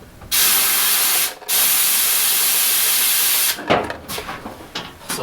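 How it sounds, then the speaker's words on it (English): Compressed air hisses loudly in two long blasts through a fuel line on a long-neglected engine project, spraying gas in short spluttering bursts at the end. "if I now blast air through the fuel line from the front, we're getting some splattering of gas out the back"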